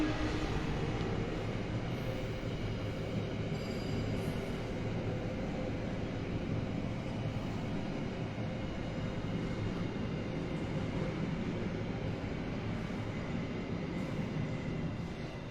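A train rolling past in a steady, continuous rumble with clattering wagons, loud and close throughout with no voices over it.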